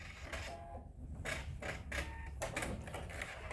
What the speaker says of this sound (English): So I'm just sewing 1/4 inch down that one side.